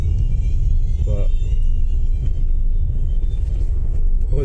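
BMW cars accelerate away along a busy road in Stirling, Scotland, a steady loud engine rumble and road noise filling the whole stretch while a voice talks over it.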